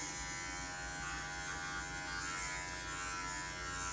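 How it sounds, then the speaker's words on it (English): Electric dog clippers buzz steadily as they shave the paw pad of a poodle, a continuous close motor hum with a slight rasp as the blade works through the hair, no talking. "Then take your clipper. As I'm pushing the pad from under out,"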